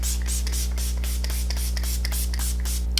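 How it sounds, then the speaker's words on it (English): Several short hissing bursts of a PIXIE Glow Mist setting spray misted over a freshly made-up face, close and steady, with no talking. "to finish up the look, I'm going to spray some of the PIXIE Glow Mist"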